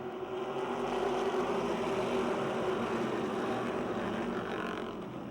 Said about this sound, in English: we are green and racing